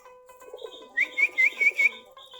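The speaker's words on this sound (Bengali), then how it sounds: "আমাদের কবুতরগুলো এখানে ধান খাচ্ছে, পানি খাচ্ছে" Native Giribaz pigeons coo and call while feeding on rice grains and water, a run of about five bright, evenly spaced calls close by over a soft murmur of birds.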